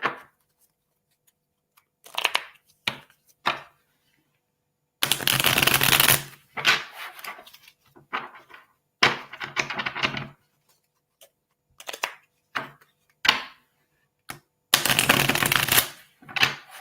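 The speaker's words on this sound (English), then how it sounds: "let's pull some cards for you" Tarot cards are shuffled in several crisp, riffling bursts, with quieter taps and slides of the deck in between, close and clear with no talking.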